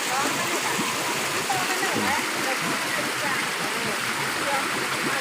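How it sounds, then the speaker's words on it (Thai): A waterfall at a temple pours steadily with a dense, continuous rushing and splashing roar that fills the whole clip without pause. "เรามีน้ำตกเรียบร้อยเห็นบ่พี่น้อง"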